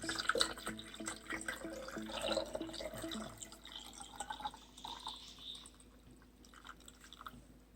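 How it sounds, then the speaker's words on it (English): Liquid pours into a container of eggs being preserved, a gurgling, trickling stream with drips that fades toward the end, quiet and close with no talking. "So we're going to go ahead and pour this in, and you want it to cover all of your eggs."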